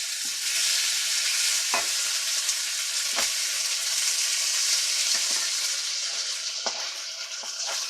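Teriyaki cubed pork fries in a non-stick pan with a steady, bright sizzle, broken by a few soft scrapes and clacks of stirring.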